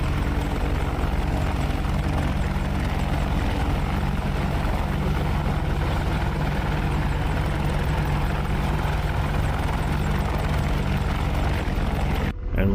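AH-64 Apache attack helicopter hovering nearly stationary in the DCS flight simulator, a loud steady rotor and turbine drone with low rhythmic blade thump throughout, cutting out briefly near the end.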